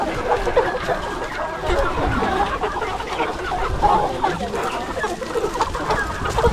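A large flock of 13-week-old rainbow rooster chickens on a poultry farm clucks and murmurs in a constant dense chatter, with occasional sharper calls rising above the crowd and someone speaking at moments.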